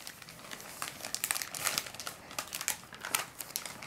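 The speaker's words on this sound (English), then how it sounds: "can you give it to him and he'll unwrap it?" A wrapped present, a book, is opened by hand, its wrapping paper crinkling and rustling in close, busy bursts of crackles that swell and fade for a few seconds without talk.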